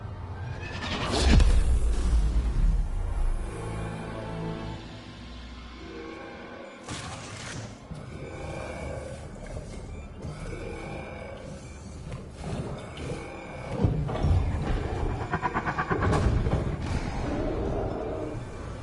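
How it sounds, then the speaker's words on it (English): An EMP fires in the Mass Effect video game, a loud roaring blast with a crackling, shattering texture. It surges several times over a dense game soundtrack, with a brief dropout midway. "fire the EMP!"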